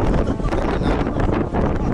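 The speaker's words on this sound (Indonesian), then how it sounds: "Terus di sini angin juga lumayan kenceng nih" Strong wind buffeting the microphone outdoors on a tour stop in the Holy Land, a loud continuous roar and rumble that fills the whole clip.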